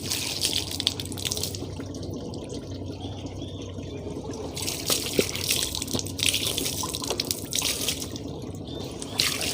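Running tap water splashes steadily during wudu ablution, the stream breaking as hands scoop water to the face and nose, close and fairly loud with no talking.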